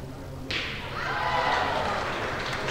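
A steel pétanque boule, thrown as a shot in a European junior triples semifinal, lands with a sharp thud followed by a rolling, scraping rustle.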